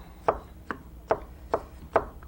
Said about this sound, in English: It's great for chopping nuts or whatever.